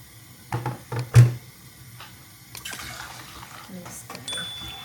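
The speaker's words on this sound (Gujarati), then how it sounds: "આપણે રાઈસ નાખી દીધા છે અને પાણી નાખી દઈએ." Water is poured onto rice in a cooking pot for vegetable biryani, a rushing, splashy pour following brief talk and a few knocks, steady at moderate loudness.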